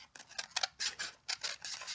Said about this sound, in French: Tu découpes avec 2 paires de ciseaux en même temps?